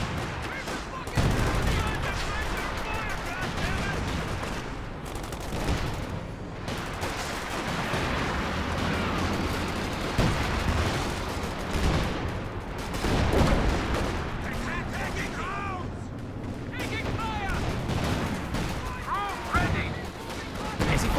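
Dense Company of Heroes 2 combat audio with continuous gunfire and heavy booming artillery blasts rolling throughout, with voices talking over the battle.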